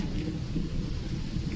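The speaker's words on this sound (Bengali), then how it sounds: "মেঘ ডাকছে" Low thunder rumbles continuously during rain, heard from a rooftop garden with flowering mango trees, a soft, steady, distant-sounding roar without voices.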